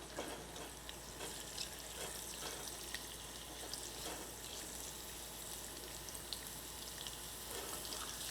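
Garlic cooking gently in a pan, a soft steady sizzle with faint crackles and occasional stirring scrapes, quiet and continuous throughout.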